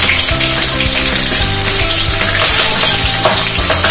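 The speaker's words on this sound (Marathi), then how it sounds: "मिरच्या आणि लसूण छान कलकू द्यायचं आहे" Green chillies and garlic fry in hot oil for a Maharashtrian dill-spinach pithla, giving a loud, continuous close-up sizzle and crackle with no talking.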